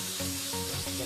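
Chicken pieces frying in a pan over a low flame for chicken biryani, a steady dense sizzle with faint tonal hum and no talking.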